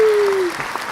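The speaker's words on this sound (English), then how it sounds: "give a round of applause" A short burst of applause from a small audience at the start of an interview show, soft clapping under a sustained tone that fades after half a second.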